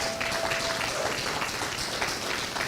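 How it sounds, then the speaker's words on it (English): Crowd applause at an outdoor political get-out-the-vote rally in Atlanta, dense steady clapping with some cheering throughout. "Mr. Warnock, let's give him a big round of applause."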